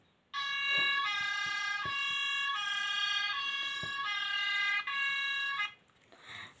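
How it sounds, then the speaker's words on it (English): Police siren from a Bruder toy light and sound module, a loud electronic wailing tone cycling through several rising and falling sweeps, close and alone, ending with a brief click and faint noise. "Here we've got the police siren."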